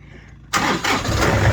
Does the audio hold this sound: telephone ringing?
no